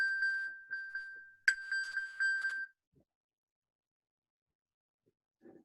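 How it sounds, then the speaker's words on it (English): A phone notification chime sounds as a repeated series of bright, tonal dings in quick succession, loud and close, then falls silent with a faint sound at the end. "My wife is pinging my phone."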